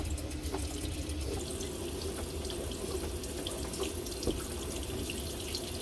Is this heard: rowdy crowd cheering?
no